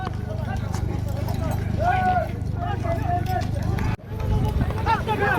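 Rapid, continuous hoofbeats of a galloping horse drum on over a dense background, breaking off for an instant before resuming.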